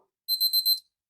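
A Casio LF-30W digital watch sounding its timer alarm: four quick, high, thin electronic beeps in an even rhythm, close and clear against silence.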